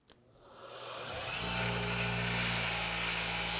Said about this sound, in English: Now I'm going to start buffing from the side of the bevel.